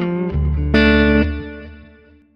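Clean electric guitar through a Line 6 POD HD500x set to digital delay with modulation: a few picked notes and a strummed chord ring out, then repeat and fade away in wobbling echoes, heard alone.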